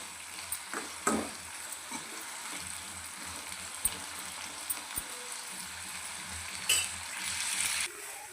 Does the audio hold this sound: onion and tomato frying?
yes